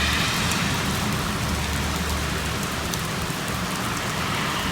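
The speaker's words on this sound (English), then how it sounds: "it is pouring down rain." Heavy rain pours down in a dense, constant hiss, loud and unbroken throughout, with a low rumble beneath the downpour.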